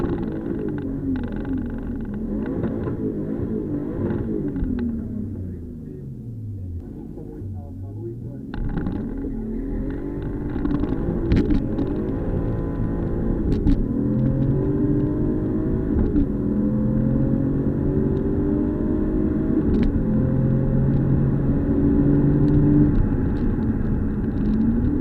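From inside the car, a turbocharged BMW M50/M52 engine accelerates on a drag strip at a BMW meet. It drones, dips briefly, then climbs steadily in pitch under hard acceleration, loud and continuous throughout.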